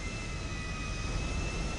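An airplane engine in the GTA video game gives off a steady, even jet roar that stays constant throughout the short stretch.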